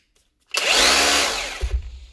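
Leader cordless rotary hammer runs in chisel mode, where it hammers while the chisel rotates, starting abruptly with a loud, steady whirring hammer drone that holds for over a second before easing off with a thump near the end.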